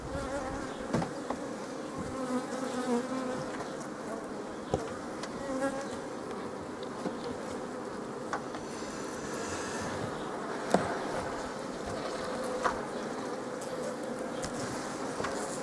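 Honeybees buzz steadily at a beehive in 30-degree heat, a continuous soft drone with occasional individual bees passing close to the microphone, no voices.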